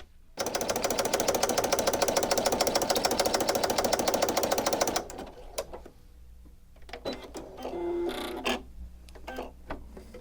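A sewing machine with a specialty foot stitching a decorative circle, running fast and steadily with a dense mechanical chatter for about five seconds, then stopping, followed by faint handling clicks and rustles.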